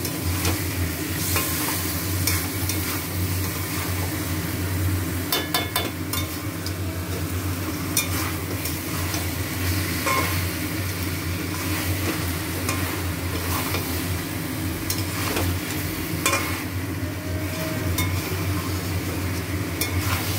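Chicken being slowly fried down as kosha in a pan, sizzling steadily throughout with repeated scraping and stirring strokes and occasional light clinks of the utensil, no talk.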